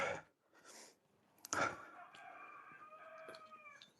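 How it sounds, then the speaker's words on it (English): Distant cockerel crowing outdoors in the countryside, faint and thin, with a few soft clicks and breathy noises near the microphone. "Oh, I hear a cockerel crowing."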